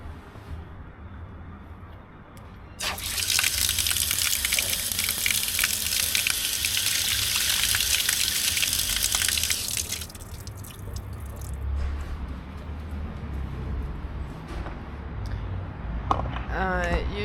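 A street water fountain in Tbilisi runs in a steady gushing splash that starts abruptly, holds for several seconds, then cuts off, leaving outdoor street ambience and faint voices.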